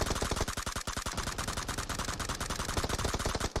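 Rapid automatic gunfire in a battle royale shooter, a dense run of loud sharp shots firing steadily for several seconds with almost no pause.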